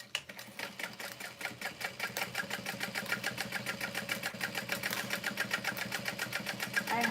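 Sewing machine running steadily as it stitches leather handles at stitch length 5, a fast, even rhythmic clatter sustained throughout with no pauses, close and moderately loud.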